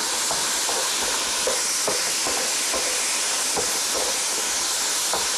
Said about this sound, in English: You want to constantly keep it moving around the wok.